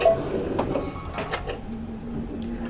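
A SEWTECH embroidery machine with a magnetic hoop powering up before stitching, giving off mechanical whirs, clunks and a steady low motor hum close by, with no talk over it.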